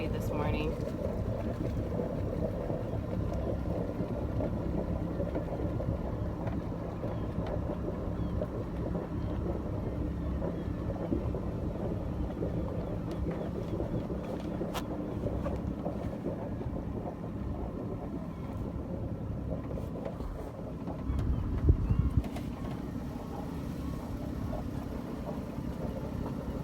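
Sailboat under way leaving Newport, with a steady low rumble of engine and water noise plus wind buffeting the microphone, continuous and fairly even throughout, a brief louder bump near the end.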